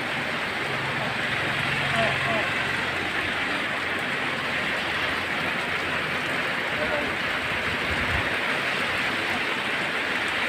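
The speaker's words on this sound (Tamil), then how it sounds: "கழுகு மலையில் நல்ல மழை." Rain falling steadily on Kazhugumalai hill, a dense, even hiss filling the whole stretch at moderate loudness, with a low rumble in the background.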